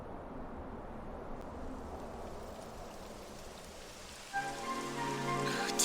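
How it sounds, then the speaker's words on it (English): Steady rain in Dragon Quest XI S patters continuously on a surface, a soft even hiss; near the end a brighter tonal sound joins in over the rain. "It would have to go and start raining"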